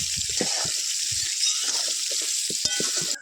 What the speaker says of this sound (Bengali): হালকা করে একটু হলুদ দিয়ে দিয়ে ভালো করে নাড়াচাড়া করে নিতে হবে।